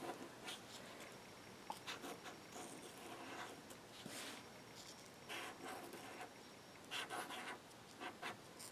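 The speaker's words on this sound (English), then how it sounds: "And I'm going to write Teddy." A Martha Stewart glue pen scratches and rubs across a paper place card as a name is written, faint close-up strokes in short bursts with brief pauses between them.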